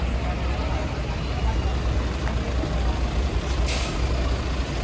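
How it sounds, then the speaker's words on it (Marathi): A truck pulls out and drives off, a steady heavy engine rumble close by, with voices and background bustle at an outdoor event. "दादा गाडी काढताना बघू शकतात तुम्ही"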